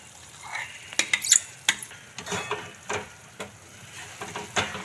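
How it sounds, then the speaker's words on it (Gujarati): A spoon stirs methi palak kadhi in a pot, giving soft scraping and light clinks of metal against the vessel in a few irregular strokes, with a faint bubbling simmer underneath. "બીજી બાજુ આપણે આ કઢી હલાવતા રહેશું"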